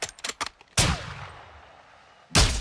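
A loud, sharp video-game sniper rifle shot cracks out and rings off, followed by a second blast near the end, after a few quick clicks.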